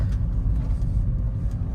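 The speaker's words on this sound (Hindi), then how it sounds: "आपको प्रॉपरली रोड नॉइज़ सुनाई देगी" Steady low road rumble fills the cabin of a Ford Figo diesel hatchback while driving, a continuous dense drone with poor insulation letting tyre and road noise through, with no talk.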